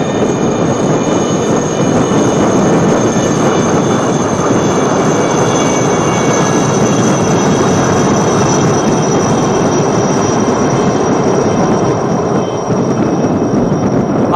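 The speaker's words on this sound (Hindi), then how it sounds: "The Chetak coming up next are 6 Chetak helicopters from the 321 flight in a diamond formation." Six Chetak helicopters fly past in diamond formation at the 2022 Presidential Fleet Review, their rotors and engines making a loud, dense, unbroken roar that fills the whole stretch with no voices.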